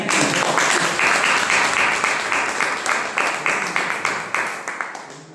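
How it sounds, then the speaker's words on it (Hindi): A seated audience claps loudly and steadily at a business presentation, a dense sustained applause that continues throughout and slowly thins and fades toward the end. "ताली बजाए जोरदार"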